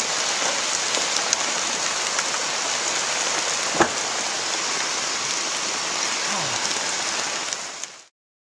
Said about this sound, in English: And now some rain